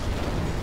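Heavy cannon fire from a starship in a space combat roguelike game: a short, loud, dense burst of rumbling blasts with no voices.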